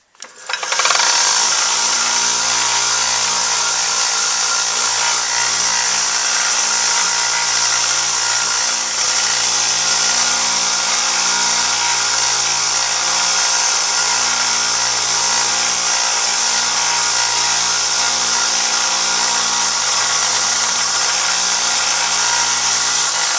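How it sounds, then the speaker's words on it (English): A belt sander shaping a tenor saxophone mouthpiece runs continuously with a loud, steady whirring hiss and a pulsing motor hum, occasionally shifting as pressure changes, with no talking. "I'm mostly doing just sanding to try to get out the scratches from the previous belt"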